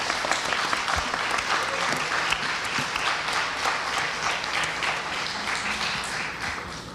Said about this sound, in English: A big round of applause to Madhavi ji,